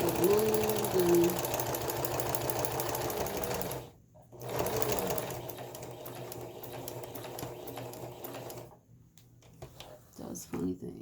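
Sewing machine stitching placemats, a fast steady needle rattle running in bursts with brief stops, close and loud, while someone talks over it.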